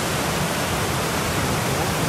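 Anderson Creek rushes steadily beside a new bridge on Baker Lake's Eastside Trail, giving a dense, constant wash of flowing water close by with no pauses.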